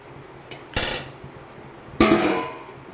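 A lid goes onto a pot of chicken simmering in water, cooked without oil, with two close metallic clatters, the second a longer rattling settle.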